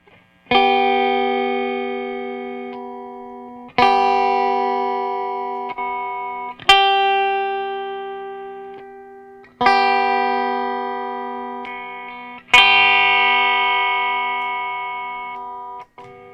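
A strummed electric guitar chord rings out five times, each one sustained and slowly fading, coloured by a shifting effects tone.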